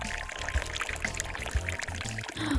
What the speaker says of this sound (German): Machen wir heißes Wasser an.